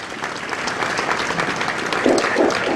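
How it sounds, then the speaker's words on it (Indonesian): Audience applause following the signing of a joint decree on school uniforms and attributes, a steady wash of clapping from a hall full of attendees, sustained and even throughout with a slight swell near the end. "kepada para hadirin mohon memberikan aplaus"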